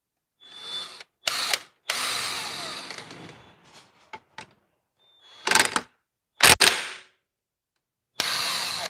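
Power tool with a 17 mm socket spinning off the nut on a Yamaha scooter CVT, several close, loud whirring bursts of varying length separated by silent gaps.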